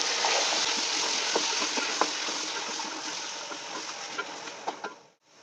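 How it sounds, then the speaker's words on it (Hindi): Beef pieces dropped onto browned onions in a pot for Afghan beef pulao, a steady bright sizzle of frying with occasional spoon knocks and pops, close by, fading out abruptly at the end. "अब मैं इसमें गोश्त डालूंगी। इसे अच्छी तरह भूनेंगे हम।"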